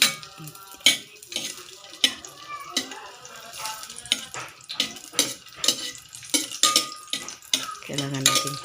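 Garlic sautés in a pan with a light sizzle, broken up by frequent clinks and scrapes of a utensil stirring against the metal. The bursts come close and irregular, and a voice is heard faintly now and then.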